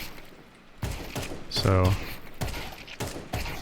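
Gunfire in a video game during counter-strafe practice on a practice map: short bursts of shots with a rapid rattling volley in the middle, someone briefly speaking over the start.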